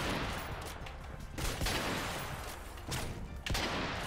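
Rapid gunfire rattles in the Xbox 360 shooter Modern Warfare 3, dense bursts of shots and fusillades crackling through a noisy match, fairly quiet overall with sharper spikes standing out.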